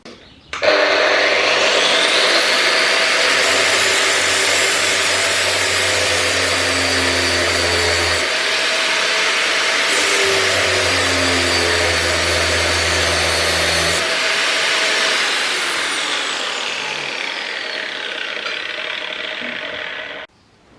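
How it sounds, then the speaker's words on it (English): A big angle grinder cuts off rounded bolts on a Howard 80 rotovator, a loud, steady whine that runs for about twenty seconds. The pitch dips as the disc bites into the bolts, then the grinder spins down at the end. "I'm going to grab the grinder now and chop those bolts off."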